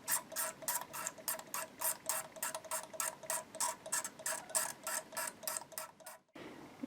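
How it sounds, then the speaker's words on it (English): A blade scrapes paint off the edge of a 1976 Stratocaster guitar body in quick, evenly spaced strokes. The close, rasping passes repeat over about six seconds, then stop abruptly. "we're just going to scrape off the edge of paint here just to see what's going on and exactly what we're dealing with"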